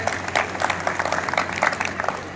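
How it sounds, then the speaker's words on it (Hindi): An audience at a Ramlila stage performance in Mahendergarh claps steadily, a dense, sustained round of applause from a crowd with no voices standing out. "जोर से तालियां बजाइए।"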